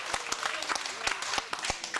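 Scattered clapping from a small audience at a village flea-market variety show in Baudres, France, with sparse, uneven claps that stay fairly faint.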